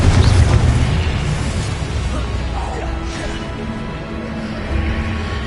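Confringo and Incendio spells detonating in Hogwarts Legacy on PS5, with heavy booming blasts and rumbling fiery bursts over dense game noise, loud and continuous.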